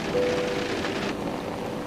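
Rain falls steadily in a dense, even hiss with no breaks, close and moderately loud, heard on its own with no voices over it.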